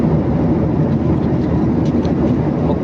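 Airplane cabin noise fills the clip during a flight, a steady dense broadband roar with no breaks, loud and constant.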